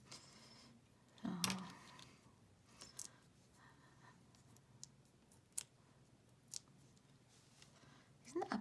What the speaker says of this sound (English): Isn't that a pleasing noise though when you take the backing off a dimensional?